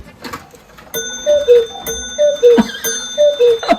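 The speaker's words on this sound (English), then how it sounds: "This is the Black Forest lady, she rings the bell." A small bell rung by a Black Forest clock figure chimes in a repeating bright pattern, alongside clock chiming tones, close and clear with no talking.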